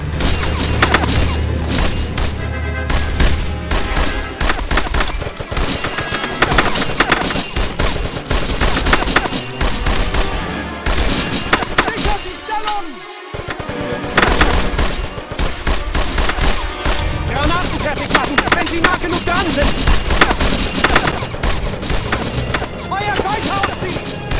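Gunfire from the Brothers In Arms 2 Global Front video game fighting in a German-held town: loud, near, repeated rifle and machine-gun bursts with booming explosions, continuing throughout, with shouted voices mixed in.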